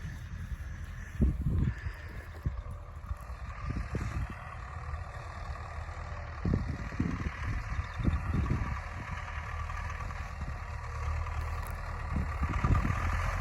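A tractor engine idles steadily in a field after sowing spring barley, a continuous low rumble with occasional louder thumps and knocks over the constant drone, heard close and alone without talk.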